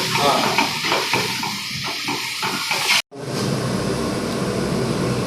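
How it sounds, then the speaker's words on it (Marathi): Onions fry in a pan for a chicken biryani, a dense, continuous sizzle and hiss with stirring scrapes, loud and close, broken by one brief dropout before the frying resumes just as strongly. "कांदा भाजून होतं ना."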